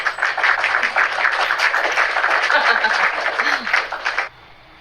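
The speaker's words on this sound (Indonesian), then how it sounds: "Tepuk tangan buat Bang Deri Wanhar Saputra yang cakep dan manis" Audience applause for Bang Deri Wanhar Saputra during a Q&A duet session, steady dense clapping for about four seconds before cutting off abruptly, with faint laughter mixed in.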